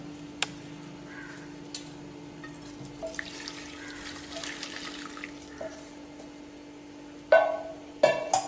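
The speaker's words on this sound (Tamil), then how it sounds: "இப்போ சீனி பாகை வடிகட்டிடுவோம்." Hot sugar syrup for rasgulla is strained, heard as a faint, thin trickle with small drips and light clinks against a steady low hum, ending in a couple of louder knocks.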